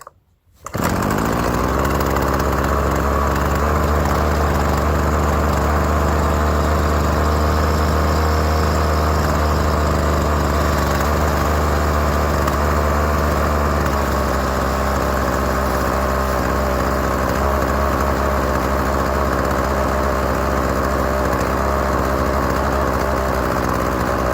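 A Poulan string trimmer (weed eater) pulled from a dump starts up and settles into a steady, loud two-stroke idle close by, droning continuously for over twenty seconds with no talking.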